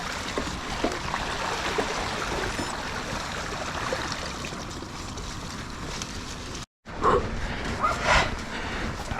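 An electric mountain bike ploughs through deep water on a flooded trail, with a continuous rushing, churning splash and wind noise. The sound cuts out briefly, then returns with louder sloshing.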